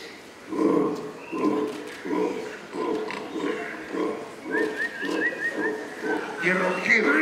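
A human voice imitates a whistle in a children's dragon bedtime story, a rising, warbling tone near the end that follows a rhythmic series of snore-like vocal sounds.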